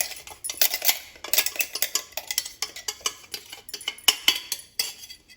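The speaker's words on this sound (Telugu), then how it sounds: "కారపొడిని ఇలా వేసాం కదండి ఒకసారి అయితే కలుపుకోండి" Repeated scraping and clinking of a spoon against a pot while stirring chili powder into gongura chutney, a close, irregular rhythm of metallic taps and scrapes with no talking.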